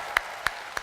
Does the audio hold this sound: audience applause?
yes